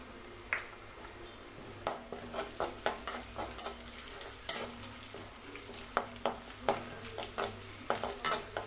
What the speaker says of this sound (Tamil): பாருங்கள் இஞ்சி வதங்கிடுச்சு.